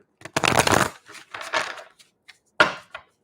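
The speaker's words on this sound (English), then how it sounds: "And even with my bad hands, it's easy to shuffle." An old deck of tarot cards being shuffled by hand, several short bursts of riffling and card slaps, close and clear, separated by brief pauses.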